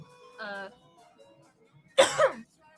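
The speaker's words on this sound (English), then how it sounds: "I'm gonna cough a lot." Two bursts of coughing, the second louder and harsher, separated by a quiet stretch with faint background tones.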